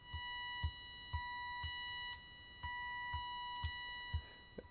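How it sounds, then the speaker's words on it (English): A 980 Hz default PWM signal from Arduino pins sounds as a steady high buzzing tone with harmonics, overlaid by faint regular clicks about twice per second, fairly quiet and continuous with no voices. "default PWM speed is 980 Hertz. If we were to listen to this, it would sound like this."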